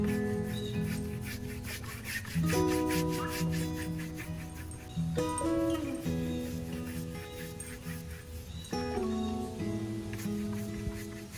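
A brush strokes paint across a wooden coffee table, producing steady rhythmic rubbing and scraping strokes at close range, repeated over and over, with tonal background sound underneath.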